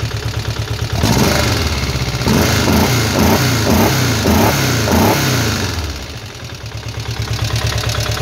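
A rebuilt VW Beetle Type 4 engine runs steadily right after its first start, close and loud. Its pulsing idle lifts briefly with a few revs, then settles back into a rhythmic idle.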